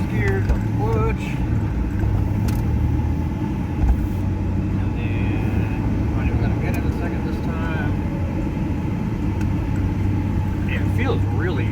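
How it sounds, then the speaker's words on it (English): The 140-horsepower V6 of a 1988 Ford Ranger STX accelerates in first gear with a steady, rumbling drone heard from inside the cab, while people talk over it. "for a 140 horsepower V6, that spins the tires a little bit"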